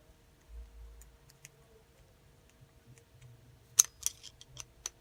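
Small screw being tightened on the Gomexus power knob of a Daiwa Saltist 5000 fishing reel: a few quiet scattered ticks early, then a cluster of sharp metallic clicks and scrapes near the end, close and fairly faint.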